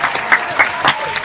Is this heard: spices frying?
no